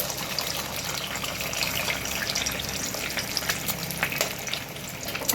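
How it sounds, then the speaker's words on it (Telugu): An egg cracked into a hot pan for quick egg rice, sizzling and spitting steadily with a dense crackling hiss throughout, close and fairly loud, with no voices. "అది హీట్ అవ్వగానే ఎగ్ కొట్టి వేస్తున్నానండి"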